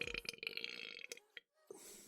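A single loud, drawn-out burp rumbles close by for about a second, followed by a short gulp and a quieter tail of breathy noise.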